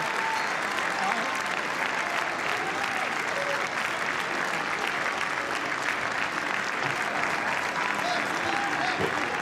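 A large crowd in the House chamber claps and cheers in a dense, sustained roar of applause during the Speaker vote, with a voice talking over it.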